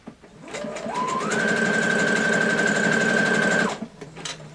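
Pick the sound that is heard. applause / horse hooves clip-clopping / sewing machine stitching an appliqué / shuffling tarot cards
sewing machine stitching an appliqué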